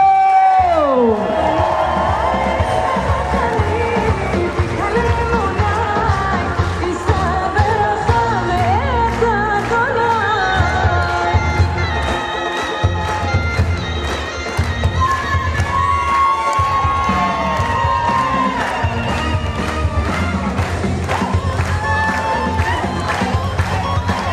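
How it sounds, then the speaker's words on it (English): Wedding guests clap and cheer in a loud, dense crowd as the groom's parents are welcomed into the reception room, with music and shouting mixed throughout. "keep those hands clapping right now"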